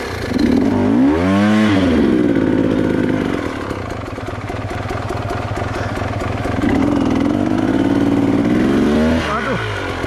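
A motorcycle engine in a video game revs up and down in repeated swells, a loud near whine rising and falling alongside ongoing talk.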